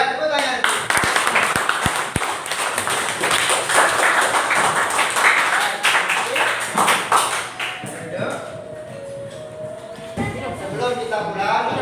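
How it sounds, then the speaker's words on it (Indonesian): Students in a classroom clap together in a brisk, fairly close round of applause with sharp claps up front, tapering off as voices begin speaking. "Baik, tepuk tangan."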